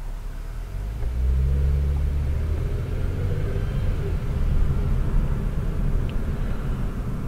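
A car rolls through a highway intersection amid road construction, with a steady low engine and road rumble that swells slightly after the first second and holds at an even, close level with no talk.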